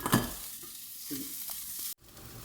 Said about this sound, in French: Mais le principal, c'est surtout remuer les oignons.